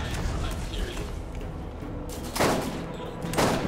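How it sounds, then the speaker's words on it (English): Enemies fire on the player in the video game Borderlands. Muffled, continuous gunfire rumbles throughout, broken by two louder, sharper bursts near the end, with some voice activity underneath. "Oh, you're already shooting at me."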